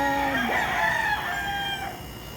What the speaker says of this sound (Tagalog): Ayun ang mga chicken na maingay.